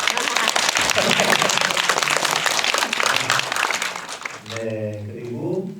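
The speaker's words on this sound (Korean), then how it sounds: "박수 한번." An audience at a Korean film screening Q&A claps steadily for several seconds, dense applause fading near the end as a voice begins speaking over it.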